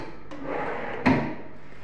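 An old wooden drawer in a beauty parlor being handled, a soft knock followed by a louder close-up thump as it slides shut.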